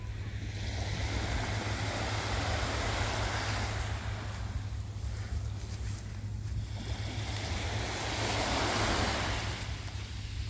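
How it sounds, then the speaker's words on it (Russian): Gentle small sea waves wash onto a black sand beach on a calm, windless day, making a soft continuous surf hiss with slight swells, underlaid by a low, steady rumble close to the microphone. "легкие-легкие волны."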